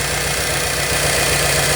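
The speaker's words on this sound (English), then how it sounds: "my car started idling kind of rough and idle" A Ford 351W V8 idles rough with a leaking intake gasket, a steady close engine rumble with a faint uneven pulse and constant broadband hiss throughout, no voices.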